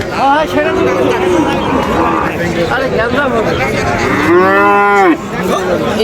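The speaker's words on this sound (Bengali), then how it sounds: "যেই দিকে তাকায় সেই দিকে গরু আর গরু" Cattle low and moo loudly at a crowded Friesian bull calf market in Ambari, Dinajpur, with one long close bellow standing out over steady crowd chatter and babble.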